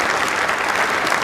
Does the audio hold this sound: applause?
yes